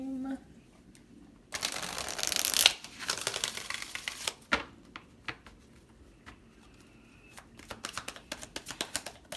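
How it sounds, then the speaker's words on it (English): A deck of tarot or oracle cards is shuffled close to the microphone, with a dense riffling burst followed by scattered soft taps and flicks of cards being handled in a quiet room. "I'm going to shuffle one more time."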